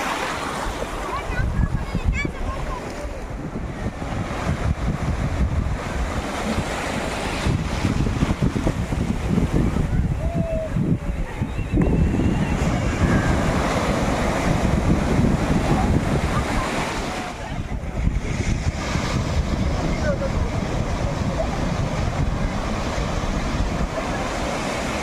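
Sea waves break and wash continuously at Digha beach where people have come to bathe, a loud roaring surf with heavy wind buffeting the microphone and voices talking over it throughout.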